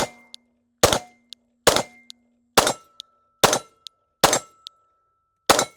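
Glock pistol firing outdoors, about seven sharp, loud shots spaced roughly a second apart, each followed by a brief ring and a faint metallic clink of brass between them.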